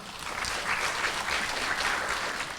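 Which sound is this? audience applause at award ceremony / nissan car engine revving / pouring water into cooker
audience applause at award ceremony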